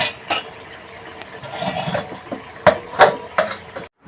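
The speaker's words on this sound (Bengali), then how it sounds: "ঢাকনাটাকে খুলে দিলাম।" Metal lid lifted off a cooking pot of potato and taro curry, sharp clinks and clatters against the rim amid soft kitchen rustling, close and fairly loud, with no talking.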